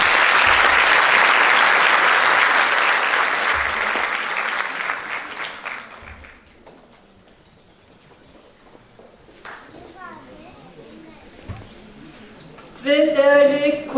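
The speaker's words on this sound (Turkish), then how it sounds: "Alkışlarınızla efendim." Audience applause welcoming saz musicians to the stage at a Turkish event, loud sustained clapping that fades away over several seconds into quiet room noise, followed by a brief voice near the end.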